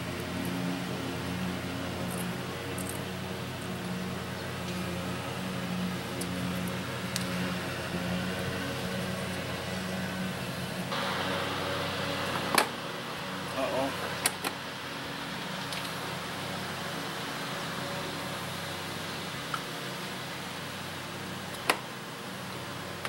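A restored toddler 4x4 ride-on runs on its electric motor, giving a steady, close whirring hum that grows slightly brighter partway through, with a few sharp clicks and knocks over it.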